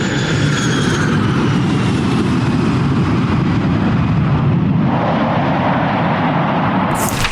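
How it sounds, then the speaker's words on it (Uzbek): A large aircraft carrying a head of state roars as it lands at an airport, a loud continuous rumble of engine noise and wind that shifts in tone partway through. "samolyot aeroportga kelib qo'ndi"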